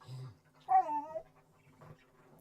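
A relentless puppy plays with an Aussie dog, letting out a short whiny yelp and soft whimpering grumbles, close by and fairly quiet, between a few low breathy growls.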